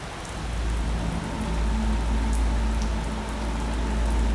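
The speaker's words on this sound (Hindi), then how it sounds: "यहां कई दिनों से बारिश हो रही है" Steady rain patters on a surface, a dense, even hiss with a low rumble beneath, continuous throughout.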